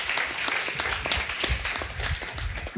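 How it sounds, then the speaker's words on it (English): Audience applause at a Devcon4 Ethereum tech conference talk fills the room as a steady, dense wash of clapping from a large crowd, moderately loud and continuous for a few seconds. "So big applause for Jared again"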